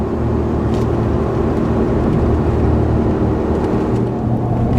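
A Ford F350 with a 7.3L gas V8, towing up a 6% grade in 100-degree heat, makes a loud, steady engine drone and road rumble heard from inside the cab, continuous and without talk.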